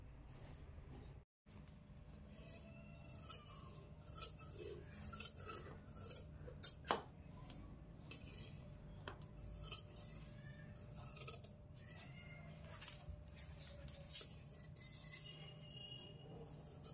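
Scissors cut through blouse fabric in quiet, intermittent snips and crisp blade clicks, close and faint, with a steady low hum underneath and one brief dropout early on.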